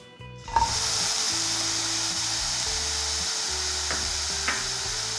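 Chopped pineapple sizzles steadily in a hot pan on the stove as pineapple halwa is cooked, a close, continuous frying hiss with a few brief clinks partway through.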